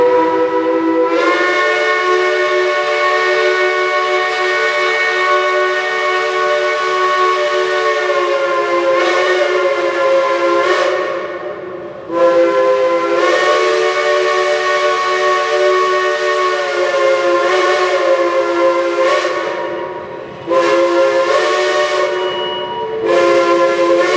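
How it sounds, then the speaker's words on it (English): A Lunkenheimer steam whistle blown at 200 psi sounds a loud, sustained chord-like blast, cut into three long blows separated by brief dips, with no talking. "Here is a similar one being blown at 200 psi."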